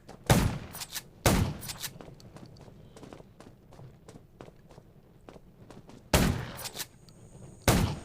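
Gunfire in the zombie video game Undawn: four loud, sharp blasts spaced irregularly across the stretch, with quieter scattered game sounds and impacts in between.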